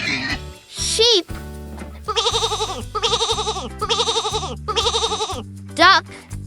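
A sheep bleats in four wavering, evenly spaced calls, loud and close, framed by quick squeaky effects and soft background music.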